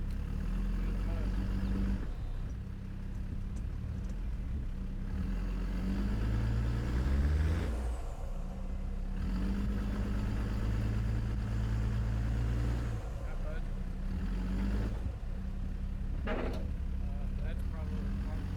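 An off-road 4x4 churns through mud in Grand Mesa National Forest, its engine droning and rising in repeated revs as the tires spin, with people talking over the noise.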